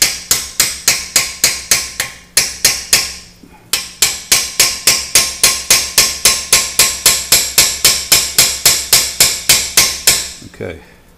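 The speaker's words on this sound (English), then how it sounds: "we're going to swag out the hole so we can get a piece of 1/4-inch copper tubing in there." A hammer strikes a 1/4-inch swage tool into copper tubing during wine cooler refrigerant line repair, sharp metallic blows in a fast steady rhythm, one short pause, then a long run of evenly spaced hits, loud and close.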